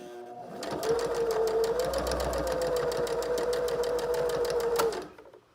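A sewing machine stitches a fabric face mask, a steady rapid mechanical rattle running for about four seconds before it stops, close and fairly quiet, with no talking.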